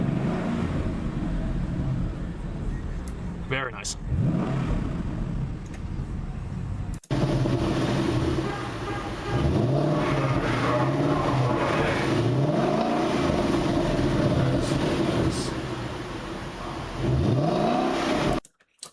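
A powerful American muscle car engine revs repeatedly, rising and falling in throaty bursts, loud and close, with a brief spoken remark partway through.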